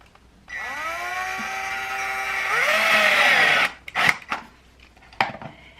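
An electric screwdriver drives screws into the soft old timber of a table leg, a steady rising motor whine that climbs in pitch under load, then cuts off, followed by a few short clunks and knocks.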